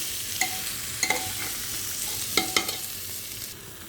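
Rice and lentils for khichdi frying in a pot, a steady soft sizzle broken by a few sharp scraping stirs of the spoon, close and moderately quiet.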